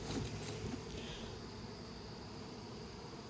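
Honey bees buzz at an open hive in a faint, steady, dense hum, with a soft drone continuing evenly throughout.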